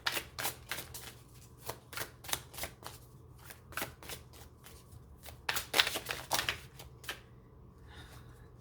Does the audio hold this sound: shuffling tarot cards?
yes